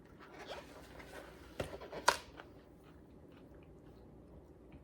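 Someone bites into sugar-coated candied cranberries, giving a few close, crisp crunches, with one sharp snap standing out amid soft chewing at low volume and no talking.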